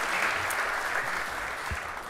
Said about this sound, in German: Also einmal Applaus für unsere ganzen Gäste hier in der Show.